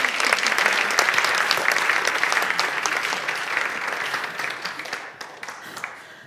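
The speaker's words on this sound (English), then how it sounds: "That was good clapping." A congregation claps together after a song at a church service, brisk steady applause with distinct sharp claps, gradually thinning out toward the end.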